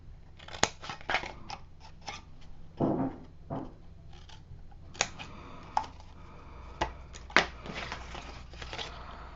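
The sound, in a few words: scissors cutting out corners of craft paper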